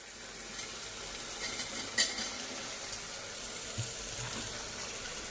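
Peas, onions and potatoes fry in a pan with a steady, close sizzling hiss, broken by one sharp clink near the middle and a few soft stirring scrapes.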